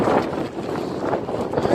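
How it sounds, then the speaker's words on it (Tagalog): Strong wind at Lakes Entrance, Australia, gusts in a steady loud roar that buffets the microphone, with a voice faintly mixed in. "grabe ang hangin"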